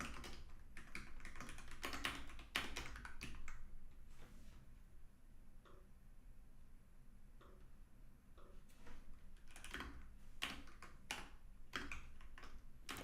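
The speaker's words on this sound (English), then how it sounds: "I'm writing on a keyboard which is using a US layout, and I'm not completely used to it yet." Steady typing on a US-layout computer keyboard, with rapid bursts of close key clicks and short pauses, the clacking continuing almost throughout.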